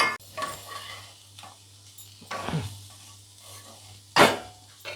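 Crumbled paneer stirred into fried masala in a pan: a few scraping stirs over a low, steady sizzle, close and without voices.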